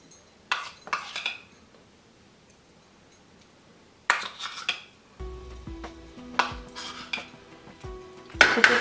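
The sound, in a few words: mixing chicken with green chutney in a bowl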